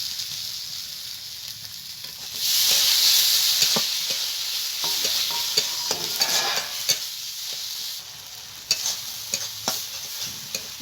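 Chopped tomatoes hit a pan of spices and sizzle loudly, the hiss rising sharply then settling as a spatula stirs with repeated clicks and scrapes, close up and without voices.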